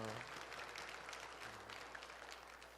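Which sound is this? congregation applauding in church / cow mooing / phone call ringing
congregation applauding in church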